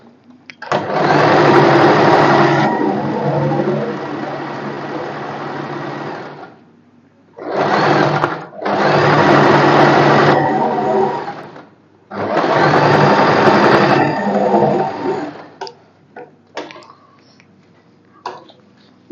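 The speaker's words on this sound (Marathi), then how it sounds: "पुन्हा डबल स्टिच." A domestic sewing machine double-stitches the sleeve of a boatneck blouse with puff sleeves, running in three loud, steady bursts of whirring separated by short pauses.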